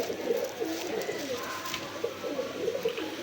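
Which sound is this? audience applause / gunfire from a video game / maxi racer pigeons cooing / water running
maxi racer pigeons cooing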